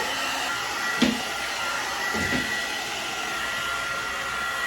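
A steady, moderately loud hair dryer on its medium setting blows continuously, with a couple of faint clicks or bumps partway through.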